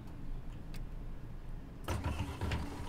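A bus engine in Tourist Bus Simulator cranks and catches after a quiet stretch, a low rumbling start near the end, fairly faint and heard alone.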